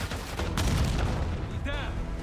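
A frag grenade explodes in Call of Duty: Black Ops 6 with a dense, booming blast that fills the short moment, with game chatter underneath.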